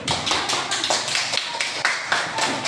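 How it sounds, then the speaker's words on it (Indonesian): Classroom students clap for a group of classmates in a rhythmic, brisk round of applause, many hands slapping in quick, fairly even beats, close and loud for about three seconds. "tepuk tangan untuk kelompok 1"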